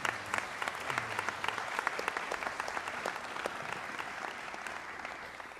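Graduation ceremony audience applauding a speaker, a dense, steady wash of clapping from a large crowd that carries evenly through to the end, with a brief murmur of voices near the start.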